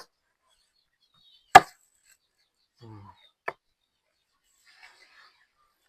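A chicken carcass is chopped and pounded, heard as a few sparse, sharp thuds separated by quiet pauses, with one loud strike followed by fainter knocks, in a rural Isan home kitchen.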